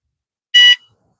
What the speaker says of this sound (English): I do got an alarm set up and everything.